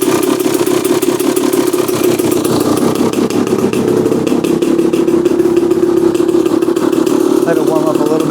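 Steady, close idle of a 2016 300xcw dirt bike warming up, a loud even engine burble running throughout with slight clatter.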